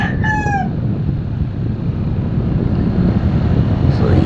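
A rooster crows once, briefly and at a distance, at the very start, in the evening, then a loud steady rumble of wind or engine noise takes over.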